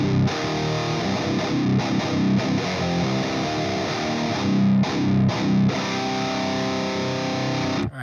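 A distorted electric guitar plays heavy chugging riffs through an amp with a Source Audio EQ2 equalizer boosting the effects loop, loud and continuous with short pauses between phrases.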